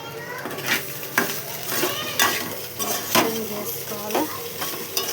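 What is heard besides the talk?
stirring food with added salt in a pan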